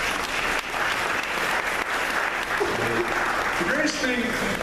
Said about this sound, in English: How about one more round of applause for Paul?